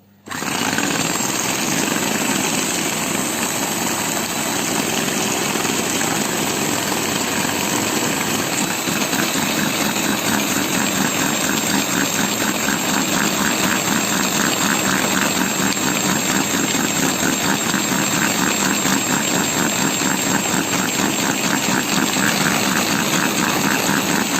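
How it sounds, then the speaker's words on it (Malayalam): Electric hand mixer beating cupcake batter at medium speed, a loud, steady motor whir with dense rattling texture running continuously and close for the whole stretch, no voices over it. "നമുക്ക് മീഡിയം സ്പീഡ് ഇട്ടത് ഇതൊന്ന് ജസ്റ്റ് ഒന്ന് ബീറ്റ് ചെയ്യാം."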